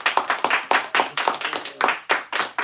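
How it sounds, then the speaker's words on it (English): A small group at a sit-down gathering claps in a rhythmic burst of fairly loud, close hand claps with no talking over it. "Let's give him a clap, man."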